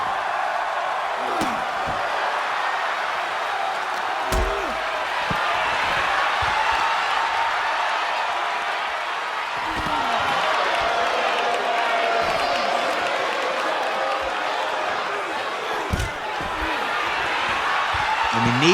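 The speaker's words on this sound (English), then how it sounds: "Crowd is going wild." Wrestling video game crowd roaring steadily throughout a brawl, a dense continuous cheer with occasional thumps of impacts, while a commentator talks over it.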